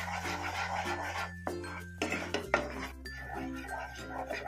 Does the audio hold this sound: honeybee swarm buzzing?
no